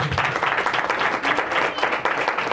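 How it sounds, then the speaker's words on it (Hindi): A church congregation gives loud, dense applause, sustained throughout with no pauses. "सब लोग ताली बजाया जोर से।"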